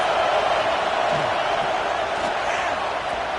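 Roaring stadium crowd in an NCAA football video game, Ball State at Oklahoma State, a dense continuous wash of noise filling the space, loud and sustained for a few seconds.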